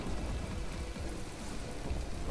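Steady rain in the game From The Depths, a dense hissing patter at moderate volume with a low rumble underneath, continuous and without any voices.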